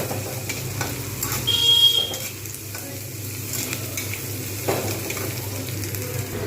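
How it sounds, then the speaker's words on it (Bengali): Onions frying in oil until crunchy for egg biryani, a low steady sizzle with occasional scrapes and clinks of a utensil in the pan, close and moderately quiet. "যতক্ষণ পর্যন্ত না একটা ক্রাঞ্চি ভাব আসছে ততক্ষণ পর্যন্ত কিন্তু আমাকে এগুলো ভেজে যেতে হবে"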